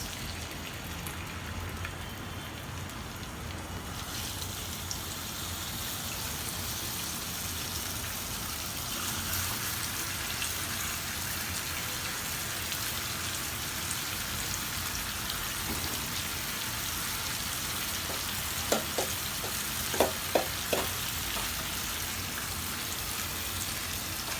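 Chicken pieces for chicken chaap sizzling in a hot pan, a soft steady hiss like light rain throughout, with a few sharp clinks of spoon or pan near the end and no voices.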